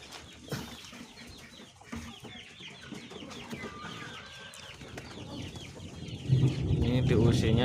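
Week-old KUB chicken chicks peeping in a small home coop, scattered high chirps with occasional louder bursts near the end.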